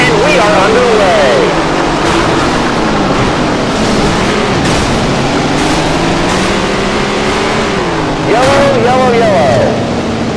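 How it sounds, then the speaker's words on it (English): A pack of late model race cars in a racing video game, engines droning loudly together at the start of a race on Sterling County's track, with pitch sweeps as cars pass and a commentator talking over them. "Listen to those engines as we get ready to go."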